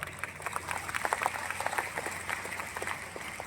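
Scattered applause from a seminar audience at a Riway business event, fairly soft and uneven, with clapping continuing steadily throughout.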